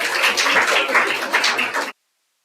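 Audience applause fills the room at a live Independence Day corporate event, a dense burst of clapping from a crowd that holds steady for about two seconds before cutting off abruptly.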